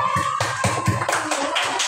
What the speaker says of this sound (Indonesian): Jauh-jauh tepuk tangan dulu.